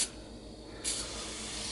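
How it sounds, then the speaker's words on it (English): A continuous broadband hiss of an aerosol oven cleaner spraying close by into a cold oven, a short burst followed by a steadier spray, with no talking. "Just gonna spray it."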